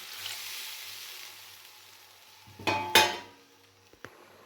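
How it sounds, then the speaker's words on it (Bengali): Water poured into a pan of frying potatoes for a pangas fish curry gives a sudden loud hiss and sizzle surge, following a quiet simmering background, then a couple of short clinks of the pan. "এবার দিয়ে দেব পরিমাণ মতো জল।"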